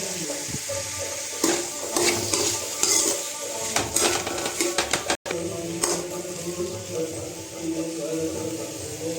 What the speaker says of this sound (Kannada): ನೀರಲ್ಲಿರೋ ಬದನೆಕಾಯಿನ ಚೆನ್ನಾಗಿ ಹಿಂಡಿ ಹುರಿಯೋದಕ್ಕೆ ಹಾಕೋತಿದ್ದೀನಿ